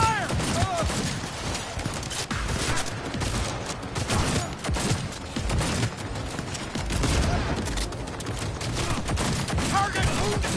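Sustained gunfire in a video game battle, dense overlapping bursts and shots filling the whole stretch with shouted voices mixed in under the fire.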